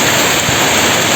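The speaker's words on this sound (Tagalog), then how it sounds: "tapos ngayon nga umuulan na, malakas pa yan" Heavy rain pours down in a dense, loud, unbroken hiss close to the microphone during a downpour at a tilapia farm, with no voices.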